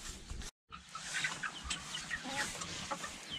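Several chickens cluck close by inside a large chicken coop, a steady stream of overlapping clucks and short calls after a brief cut.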